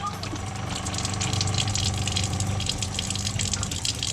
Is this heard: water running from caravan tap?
yes